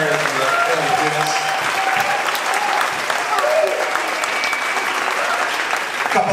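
Applause from the audience at a kids' circus performance day: a dense, sustained round of clapping that fills the whole stretch, with voices murmuring underneath.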